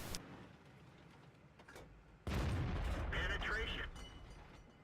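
Tank gunfire in World of Tanks from an AMX CDC: after a quiet stretch of engine hum and faint ambience, a loud, close cannon blast erupts and rolls on as a sustained rumble, with game effects ringing behind it.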